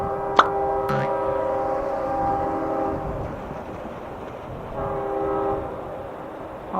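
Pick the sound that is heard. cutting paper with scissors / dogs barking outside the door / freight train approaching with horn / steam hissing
freight train approaching with horn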